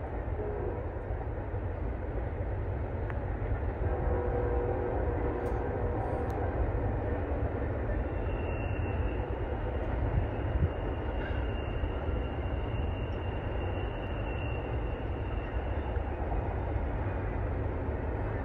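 A BNSF westbound intermodal freight train rolls past outdoors behind blooming trees, its steady broadband rumble and wheel noise holding loud and constant throughout, with faint high squeals from the rails partway through.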